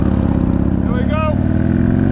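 Harley-Davidson Road Glide Ultra Limited motorcycle being ridden, a steady loud engine drone with wind rush throughout and a brief whistling tonal sweep in the middle.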